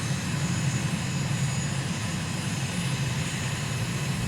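Simulated aircraft engine in Microsoft Flight Simulator droning steadily as throttle is added, a loud continuous close-up hum with no voices.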